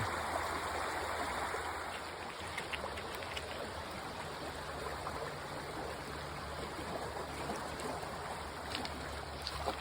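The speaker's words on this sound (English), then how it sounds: "fast moving water into a deep pool" Fast-moving water of the East Fork of the Pigeon River near Canton, North Carolina, rushing into a deep pool, a steady close broadband roar and splash that holds evenly throughout with no voices.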